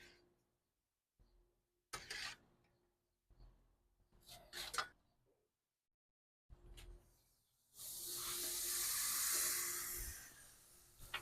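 Juice spooned onto baby back ribs on a hot grill sets off short hissing bursts, then a loud sustained sizzle and steam hiss for several seconds, up close with no talk.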